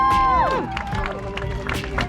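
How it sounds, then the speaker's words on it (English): Rodeo crowd at an exhibition fair cheering and applauding a rider, a burst of claps and whoops rising under an announcer's voice and a descending whistle-like tone, then settling into steady crowd noise. "A big round of applause for Herman up in the air."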